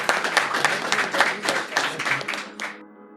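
Audience applause at a live Hindi-Urdu poetry reading, steady clapping from a small crowd filling most of the stretch before cutting off abruptly into near silence.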